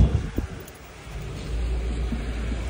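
A car engine, a Volkswagen Taigun being jump started, rumbles low and then rises into a steady revving drone in the second half, fairly close.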